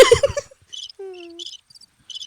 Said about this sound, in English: Hey, crickets are good luck.